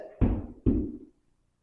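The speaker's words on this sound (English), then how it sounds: "Maybe knock on the door." Two firm knocks on a door during a paranormal investigation at Llanrumney Hall in Cardiff, sharp and close with a short ringing decay, followed by silence.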